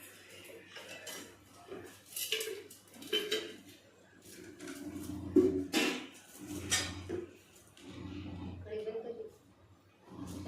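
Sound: pan being placed on the gas stove

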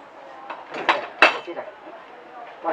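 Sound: ceramic dinner plates and cups being handled

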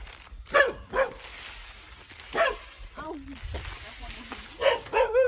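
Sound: dog barking at night

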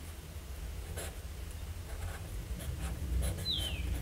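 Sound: writing with Kaweco Classic Sport broad nib pen

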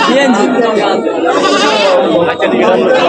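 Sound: goat bleating

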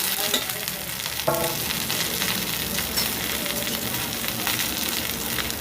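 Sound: thuthuvalai leaves sautéing in oil

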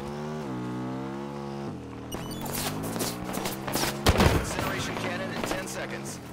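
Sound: gunfire in Halo 5 video game

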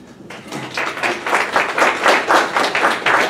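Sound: audience applause for a speaker

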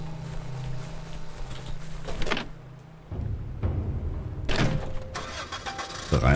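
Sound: car engine starting in the video game Dead Island

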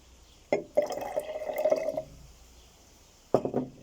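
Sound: pouring red cabbage juice into mineral water

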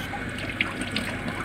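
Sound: running tap water rinsing soap off dishes

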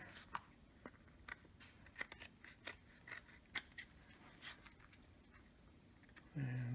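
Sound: scissors trimming material while rebuilding player piano pneumatics

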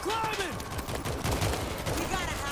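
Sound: gunfire in the video game World War Z

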